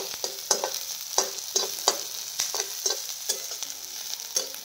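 Onion fries in a pan while a spoon stirs it, giving a steady sizzle broken by repeated scraping clatters in a regular rhythm, close up and with no voices.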